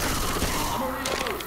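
Weapons fire at zombies in Left 4 Dead 2 under a constant wash of noisy game ambience. A couple of short, sharp shots stand out near the end.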